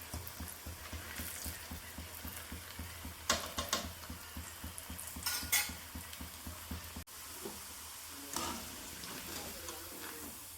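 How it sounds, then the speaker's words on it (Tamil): Susiyam snacks deep-fry in hot oil with a steady, soft sizzle and crackle, fairly faint and close, with occasional brief scrapes as they are turned. "எண்ணெய்க்குள்ளே போட்டுக்கலாங்க இதே மாதிரி எல்லாத்தையும் போட்டு பொறிச்சு எடுத்துக்கலாங்க"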